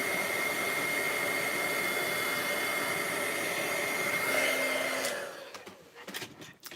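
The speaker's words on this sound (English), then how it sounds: "all you can see right now is my heat gun" A heat gun blows a loud, steady rushing whoosh over embossing powder for several seconds, then cuts off and leaves faint handling sounds.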